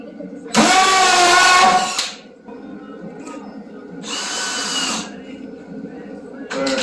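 A power drill whines in two bursts as it bores a pilot hole into wood, the first loud and near, the second a little softer, with a brief start of a third at the end and someone talking in the gaps.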